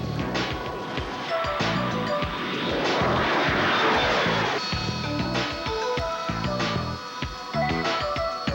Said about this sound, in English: You mentioned earlier, Gary, the aircraft was developed by the British for the Royal Air Force and the Royal Navy.